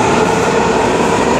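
A DC Metro subway train rumbles loudly and steadily throughout, with a continuous broadband roar of wheels and cars in motion and no clear voices.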